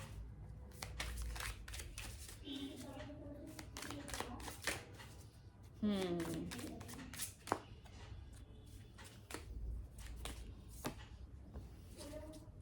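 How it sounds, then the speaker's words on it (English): Tarot cards being drawn and handled from a deck, giving a run of quick papery flicks, slides and soft slaps that come close and fairly clear, with a brief smoother swish partway through. "I'll start drawing out three cards for the past of your finances"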